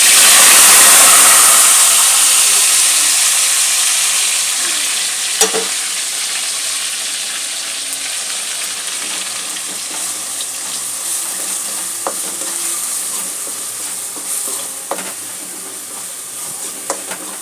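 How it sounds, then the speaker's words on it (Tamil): Onion, garlic and ginger paste sauteing in a pot, opening with a loud hissing burst as it hits the hot oil, then settling into a steady fading sizzle with scattered stirring taps. "பச்சை வாசம் போகிற வரைக்கும் நல்லா வதக்கிட்டேன்"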